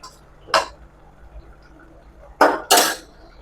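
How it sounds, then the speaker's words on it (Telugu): A lid set on a pot of brinjal and barbati masala curry and the stove switched off: three sharp metallic clanks close by, one alone and then two in quick succession, with quiet room tone between. "మూత పెట్టి స్టవ్ ఆఫ్ చేశారు"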